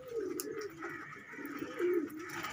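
Pigeons kept in pairs in a loft give soft, rolling coos that rise and fall in several low phrases, close by, with no talk over them.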